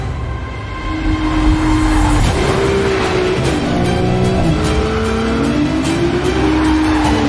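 Ferrari sports car accelerating hard through corners, its loud engine note rising and falling through gear changes while tires squeal, steady and close throughout with no talk.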